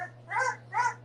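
A Boerboel puppy, about eleven days old, gives two short, high whimpering cries in quick succession, close and alone over a steady low hum.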